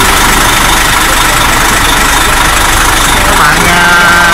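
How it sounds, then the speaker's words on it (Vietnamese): Trung Nga coach bus running in Phan Thiet after sitting idle, a loud steady engine drone with broad rumble and hiss, continuous and close throughout. "Bạn đang nghe tiếng máy khởi động đó các bạn."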